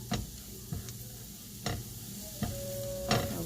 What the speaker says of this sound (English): So now it's time to add the shrimp.